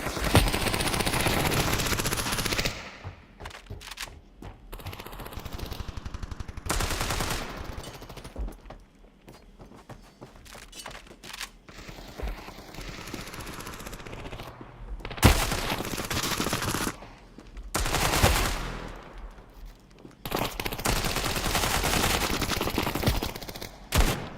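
Rapid gunfire from the mobile shooter Standoff 2 fills a crouching-headshot match: loud, close bursts and automatic volleys come in dense clusters, broken by brief quieter gaps, with no talk.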